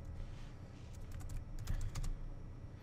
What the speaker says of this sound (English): you're going to type your text